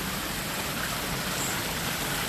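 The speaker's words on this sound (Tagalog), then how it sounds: "Mga huni lang ng ibon at lagaslas ng tubig" A steady, dense rush of flowing water at a park in Singapore fills the whole stretch, constant and unbroken, with no voices.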